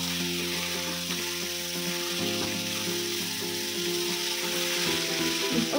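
Chicken curry sizzles and fries steadily in a pan while being stirred, a continuous close-up hiss with occasional scraping of the spoon and no talking.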